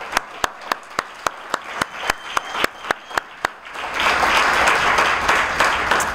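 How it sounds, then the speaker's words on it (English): At a Rotary Club scholarship luncheon, a few crisp, evenly spaced claps build into a dense burst of applause from the whole room, loud and sustained to the end. "ask everyone to give a round of applause for Amy"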